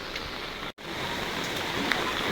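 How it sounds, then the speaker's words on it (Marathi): Heavy rain pours steadily at a hilltop viewpoint in Mahabaleshwar, a dense, continuous hiss close around the listener with one brief dropout. "बघा पाऊस कसा जोरदार चाललाय बघा"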